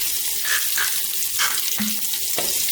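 Jerk-marinated salmon fries in a pan of butter and oil, giving a close, steady sizzle with scattered crackles and pops and no talking.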